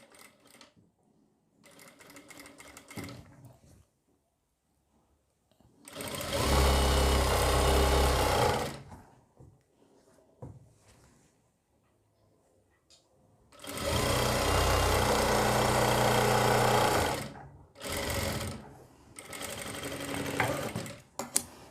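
A sewing machine stitches a kurti seam in two long, loud bursts with quieter handling noises and pauses between them, heard up close.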